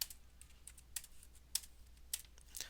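Quiet keystrokes on a computer keyboard while entering numbers into a Java exercise program, a few soft irregular taps and clicks over a low steady room hum, no voices.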